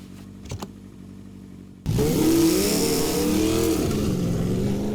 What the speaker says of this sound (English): With that, he jumped onto his motorcycle and took off. Taillights and engine sounds faded into the night.